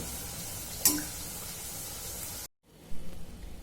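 Fenugreek leaf puri frying in hot oil gives a steady, close sizzling hiss, broken by a brief sharp clink and a short cut to near silence before the bubbling resumes.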